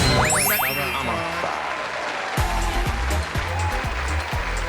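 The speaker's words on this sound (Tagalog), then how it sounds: "Ang nananalo sa atin ang mas maraming palakpak ng isa." Studio audience applause breaks out on a Filipino noontime variety show contest stage, a loud steady clapping wash that follows a short burst of bright musical tones and carries on with rhythmic low thumps beneath it.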